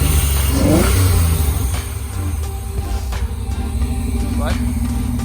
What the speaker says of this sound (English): So yeah, car's all fired up.